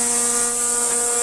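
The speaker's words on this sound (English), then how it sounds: "So this is the edge trimmer," An electric edge trimmer (line trimmer) runs steadily with a constant high-pitched motor whine, close and loud, with no talking.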